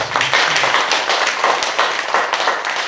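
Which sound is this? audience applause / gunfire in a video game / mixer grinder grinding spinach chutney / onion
audience applause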